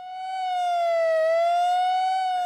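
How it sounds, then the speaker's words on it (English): A civil defense tsunami warning siren in Seward, Alaska sounds one loud, sustained wailing tone. The pitch dips slightly and then rises again, and it plays alone with no talking. "The first things that came about was the civil defense sirens that were in town so that they could warn people if they had an alert"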